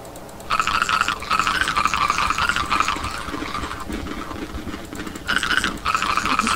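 Cartoonish squelching, rattling effect of a player character pooping in the ARK survival video game, two bursts, the first several seconds long and the second brief, with no voices.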